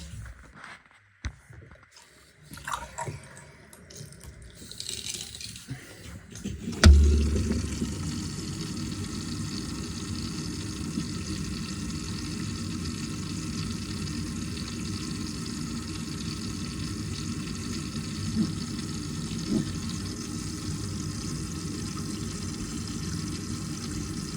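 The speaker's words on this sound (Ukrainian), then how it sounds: "Так, тепер тестуємо. Відкриваємо воду." Water gushes from a tap after a few seconds of quiet handling noises, then runs steadily and evenly for the rest of the clip.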